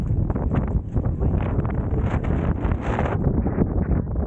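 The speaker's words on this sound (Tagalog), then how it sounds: "Lumakas ang hangin, tropadyari ang tawag." Strong wind in Tuscany buffets the microphone in a continuous low roar, with gusts rising and falling throughout.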